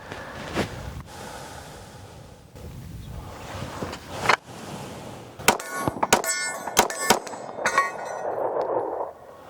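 Sharp metallic clangs of Rost Martin RM1C pistol rounds striking steel targets outdoors, several distinct ringing hits with a couple of fast bursts near the end, heard alone.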